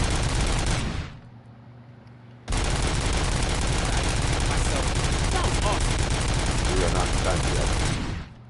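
Rapid pistol fire at a shooting range in RoboCop: Rogue City roars loud and dense, pausing briefly after the first second before resuming as a long, unbroken barrage.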